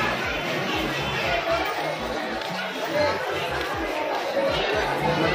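A large crowd chattering at Maa Chandrahasini temple, a steady dense babble of many voices close by, with a nearer speaker talking over it.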